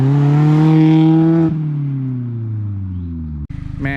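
A Mazda Miata ND on new 17-inch wheels, its engine note sliding steadily downward in pitch as the car coasts, loud and close, with no talk over it.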